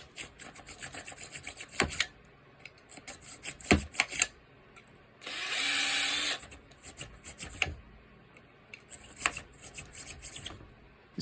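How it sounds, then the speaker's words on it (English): A twist drill bores a hole in a steady whirring burst lasting about a second, moved up and down, surrounded by scattered clicks, taps and handling noises close by. "It's also a good idea to pass the drill up and down a bit."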